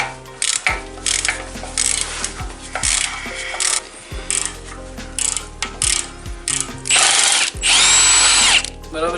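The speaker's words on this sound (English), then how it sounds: "Just gonna take off the lower ball joint bolt instead." A power tool working on a lower ball joint bolt during a steering rack job, loud close bursts of impact-style ratcheting whir separated by short pauses, ending in a longer sustained run.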